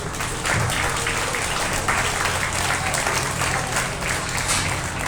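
Steady, dense applause from a large crowd at a beef cattle show, many hands clapping continuously at an even volume throughout.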